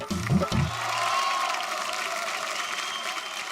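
Studio audience applause on a televised Hindi antakshari singing game show, a dense steady wash of clapping that follows a brief burst of voice and musical tones at the start and carries on without a break.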